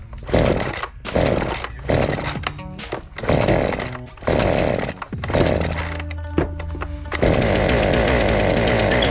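A Zenua two-stroke chainsaw, unused for some time, sputters and revs in repeated bursts, dropping between pulls, then settles into a loud, steady high-pitched running drone.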